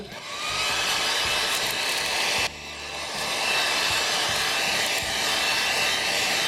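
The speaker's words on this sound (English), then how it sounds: "we'll dry off the last little bit of lighter fluid that's still on the movement" A heat gun set on low blowing over a Regula 03 cuckoo clock movement to dry off lighter fluid, a loud steady airy roar that briefly dips mid-clip and then continues alone.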